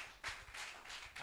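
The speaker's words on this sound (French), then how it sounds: "Applaudissons pour Jésus." A church congregation claps together in praise, a burst of handclaps in loose, repeated waves across a brief moment, fairly close and with no talk over it.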